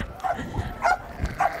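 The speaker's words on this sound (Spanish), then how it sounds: "Voy a buscar un perro." A herding dog working a flock of sheep barks in three short yaps spaced about half a second apart, close by, with some faint background noise.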